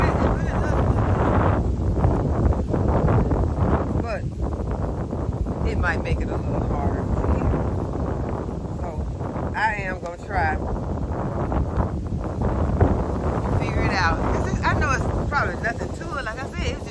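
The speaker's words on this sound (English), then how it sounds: "the wind is blowing" Strong outdoor wind roars steadily through a vegetable garden, buffeting the microphone in a continuous loud rush, with a voice half-buried underneath.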